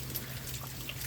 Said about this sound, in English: It's a pretty good day with the rain.